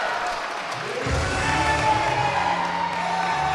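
A wrestling crowd cheers and applauds after a title match, a loud continuous roar of voices and clapping that swells after the first second.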